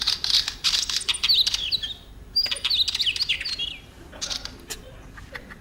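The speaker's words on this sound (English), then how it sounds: "It's a wheat ear." Wheatear bird calling in repeated bursts of bright, high chirps and twittering phrases, clear and fairly close, with short pauses between bursts over a quiet background.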